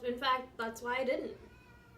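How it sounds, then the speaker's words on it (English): A cat meows a few times up close, the calls overlapping with a person speaking over them. "Now we're just hearing an animal meow."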